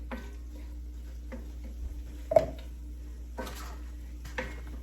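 Ground turkey cooking in a pan for crack slaw, a faint sizzle broken by several clacks and scrapes of a utensil stirring, with no talking heard.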